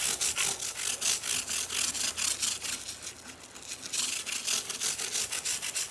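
A denture brush with Windex scrubs the crud-caked fretboard of a 1979 Kramer DMZ 5000 bass in quick, rhythmic back-and-forth strokes, a close, dry bristly scratching that pauses briefly midway before resuming.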